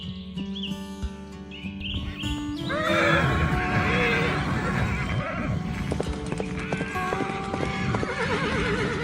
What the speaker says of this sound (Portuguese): a manada dispara em plena corrida, levantando nuvens de poeira vermelha sobre as planícies sem fim